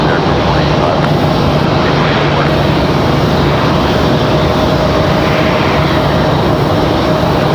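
Airplane taking off at Raleigh-Durham International Airport, a loud continuous engine roar and rumble holding steady throughout, with radio chatter heard faintly underneath.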